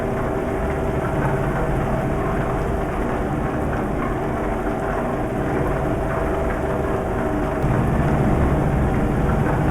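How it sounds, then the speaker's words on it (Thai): Heavy rain pours in Euro Truck Simulator 2 while driving an Isuzu Giga truck, a dense continuous hiss blended with a low engine rumble, loud and unbroken throughout. "ฝนตกแรงว่ะ"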